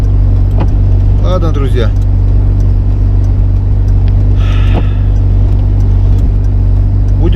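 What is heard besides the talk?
car driving slowly with a broken ball joint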